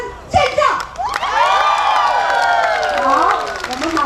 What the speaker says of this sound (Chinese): 掌声尖叫